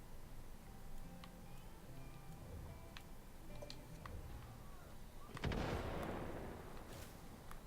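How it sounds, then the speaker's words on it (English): Video game explosions, a low muffled boom swelling into a rumbling blast near the end, after scattered faint ticks and pops over quiet background. "things are just exploding for no reason"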